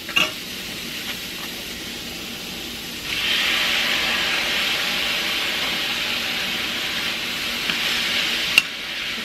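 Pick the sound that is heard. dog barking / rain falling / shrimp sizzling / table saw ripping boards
shrimp sizzling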